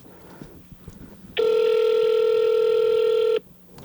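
A telephone call is dialed with *67, heard as a single loud, steady electronic tone lasting about two seconds, close and clear, with quiet handling sounds before and after.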